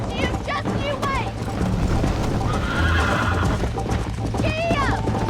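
Horse hooves clip-clop at a gallop with sharp neighs and whinnies in Red Dead Redemption, loud and continuous over background game sound, with a voice speaking partway through.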